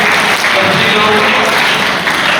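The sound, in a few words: audience applause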